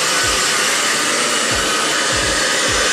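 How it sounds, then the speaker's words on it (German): A hair dryer blows steadily at close range while hair is dried, a loud continuous rushing roar that runs through the whole stretch with no talk over it. "Nachdem ich meine Haare geföhnt habe,"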